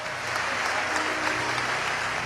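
Sustained congregational clapping at a church victory service, a dense, even wash of hands with faint voices and accompaniment beneath.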